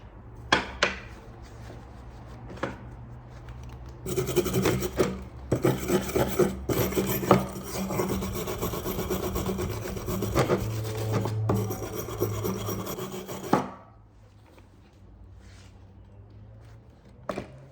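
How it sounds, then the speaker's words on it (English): Wire brush scrubbing weld spatter off welded metal for DIY speaker stands, a harsh rasping scrub that runs steadily for about ten seconds, close and loud, after a few scattered scrapes. "This wire brush gets off all of the tiny little spheres of metal that fly out from the weld"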